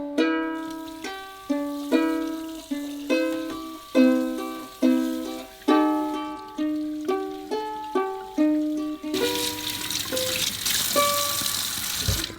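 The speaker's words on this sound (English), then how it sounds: "Pour away the water and clean the remaining foam stuck on the meat." Rinse water poured away from raw chicken feet during dim sum preparation, a short rushing gush near the end that follows a stretch of plucked, rhythmic background music.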